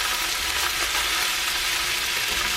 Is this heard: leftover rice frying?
yes